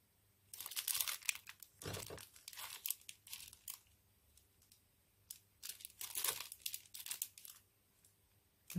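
Thin plastic foil being unwrapped from a gift parcel crackles and crinkles up close in several loud bursts separated by quiet pauses, with no one speaking.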